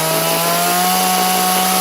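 Close, loud sanding with sandpaper on a work surface: a continuous, steady abrasive whine with a constant humming drone underneath, with no breaks and no voices.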